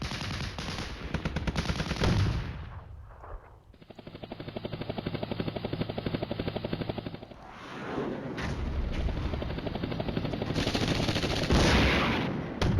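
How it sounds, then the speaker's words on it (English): Bombing and heavy gunfire in the wargame Flashpoint Campaigns: Red Storm, with loud sustained rattling bursts and rumbling blasts that fade briefly around the middle, then return dense and continuous. "Oh, that's him bombing me."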